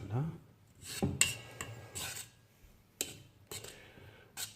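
A spoon scrapes and rasps against a bowl as bread flour is stirred, in irregular strokes with a few sharper clinks, fairly faint.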